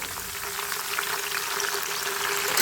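Raw banana chips frying in hot oil as a little turmeric water is added, giving a steady, dense sizzle and crackle that holds close and fairly loud throughout, with no talking.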